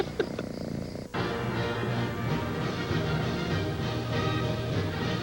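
A cat purrs during a TV commercial break in a baseball broadcast, a steady close rumble holding on after a brief sharp sound at the start.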